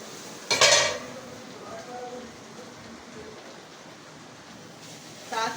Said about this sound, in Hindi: अपना कीमा भी भूनते जाएंगे